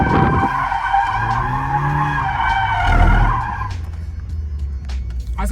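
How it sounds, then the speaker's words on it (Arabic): A modified BMW does a burnout, its tires screeching in a loud, sustained squeal with a wavering engine note that fades into a rougher skid and rumble, with no talking. "برن اوت"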